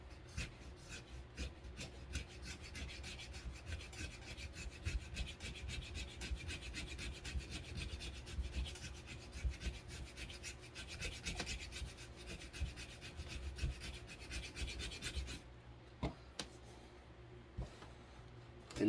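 The 90-degree spine of an ESEE JG3 knife scrapes soft cedar wood in a long run of close, dry rasping strokes that repeat steadily, then stops near the end.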